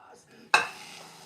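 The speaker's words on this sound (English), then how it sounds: "Oh, yeah, hear that sizzle." Vegan ham hitting a hot pan, a sudden loud sizzle bursting in after a quiet moment and then settling into a steady, softer frying hiss.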